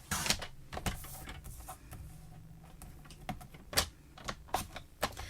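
Paper scraps being trimmed into two tiny 3/4-inch squares for a bookmark card, heard as a run of sharp, close clicks and snips at irregular intervals over a quiet room.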